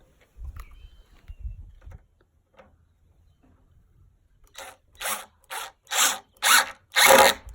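Power drill driving 2.5-inch wood screws into the corner of a 4x4 raised garden bed: low rumbling handling first, then a series of short, loud whirring bursts that lengthen toward the end.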